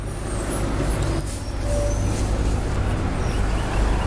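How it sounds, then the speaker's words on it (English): A bus idles and moves along a street, a close, loud engine rumble with traffic noise and a brief hiss of air brakes partway through; no talk. "So yeah, there's a bus."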